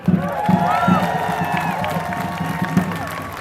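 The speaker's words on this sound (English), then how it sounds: "Let's give him another round of applause" Crowd cheering and applauding at an outdoor rally, with whoops, shouts and scattered clapping from a large audience, steady and fairly loud across the short stretch.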